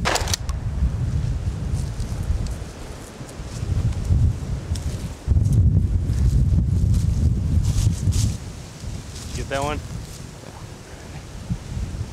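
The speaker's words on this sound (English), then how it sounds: "Very windy out here today" Strong wind buffets the microphone outdoors on a Montana duck hunt with a constant low roar and rustle, gusting louder midway, while someone briefly speaks.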